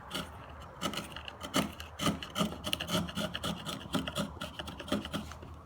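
A hand saw works across a wooden board, cutting out the waste of a cross lap joint down to the marked lines. Short, uneven rasping strokes come close up in a quick, irregular rhythm, with no talk over them.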